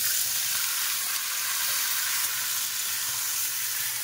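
Vegetables hit hot oil over fried onion in a village kitchen, giving a loud, dense, continuous sizzle that holds steady throughout without voices.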